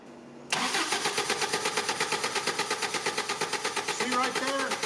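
A Toyota 22R engine with an idle fault cranks and fires, then runs in a rough, pulsing, uneven stumble close by, loud and alone, struggling to hold idle.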